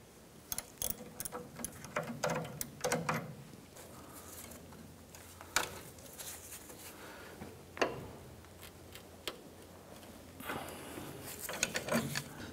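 Wrench loosening the inner tie rod on a 1994-2004 Chevrolet S10, producing quiet, intermittent ratcheting clicks and metallic taps in irregular bursts, close but faint.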